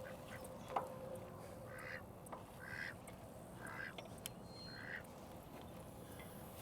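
A duck at a pond quacks faintly several times in a loose rhythm over quiet outdoor background noise.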